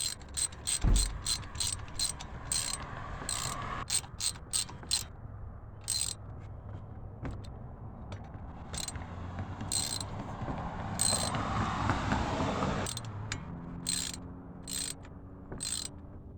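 A ratchet clicking in quick bursts while tightening valve cover bolts on a 224cc small engine, the rapid pawl ticks recurring between pauses and light scraping.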